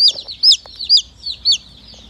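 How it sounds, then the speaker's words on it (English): Baby chicks of rare breeds such as Salmon Faverolles and Blue Lace Gold Wyandottes peep at a feed store in Mounds, Oklahoma, with loud, close, high-pitched chirps coming in quick repeated bursts with short gaps. "Let's have a recap of all the chicks that I have up here at Beeline Feed in Mounds,"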